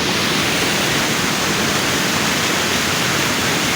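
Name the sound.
rushing floodwater after heavy rain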